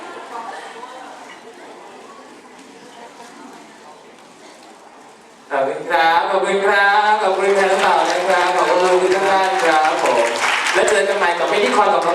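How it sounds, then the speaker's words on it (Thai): A quiet, murmuring concert crowd gives way to a sudden burst of loud, sustained applause that continues steadily to the end. "เอาเสียงปรบมือเลยครั บขอทุกท่านเดินทางกลับบ้านโดยสวัสดิภาพนะครับ"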